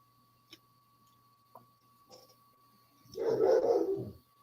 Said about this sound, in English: Doesn't mean you got to bark.